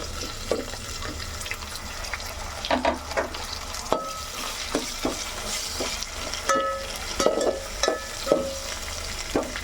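Chopped tomatoes fry with ginger garlic paste and coriander for vegetable pulao, a soft sizzle under repeated scraping stirs and clinks of a spoon against the pan.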